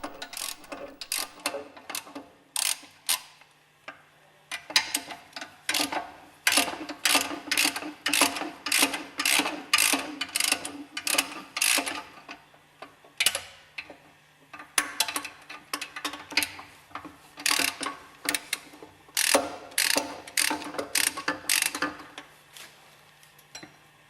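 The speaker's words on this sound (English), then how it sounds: "Unscrew the hex head screws on the bearing housing." Hex head screws are unscrewed from the bearing housing of a GEA Westfalia OSD separator, giving rapid bursts of loud metallic ratcheting clicks that come in repeated runs with short pauses, close up and with no speech.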